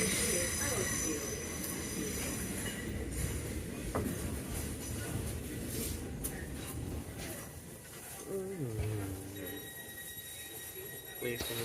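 A South Western Railway train runs toward Hampton Court. Steady rumble, wheel noise and rising and falling motor tones carry throughout, with announcements over the top.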